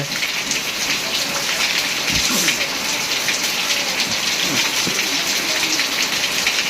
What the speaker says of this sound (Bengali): তো দেখতেছেন প্রচণ্ড পরিমাণ বৃষ্টি হচ্ছে।